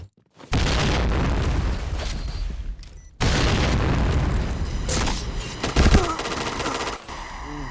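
Bomb blast in the Point Blank shooter game, set amid a loud continuous rattle of gunfire and booming hits, with a brief drop to quiet before the heavy barrage resumes and a sharp burst near the end.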